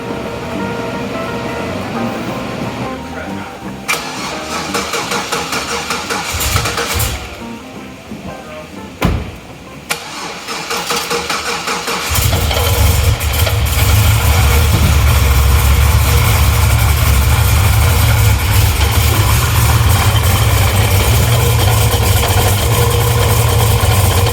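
A Cadillac CTS-V wagon engine cranks and catches, then settles into a loud, steady rumbling idle that continues for a long stretch.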